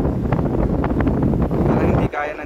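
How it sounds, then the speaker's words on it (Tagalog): Strong wind buffeting the microphone outdoors, a loud rough rumbling roar that gusts and then briefly drops off near the end. "Grabe, sobrang lakas ng hangin dito."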